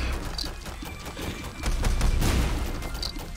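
The Glass Cannon item fires in The Binding of Isaac: Repentance, a game effect of dense booming blasts and rumbling impacts that swell midway, loud and continuous.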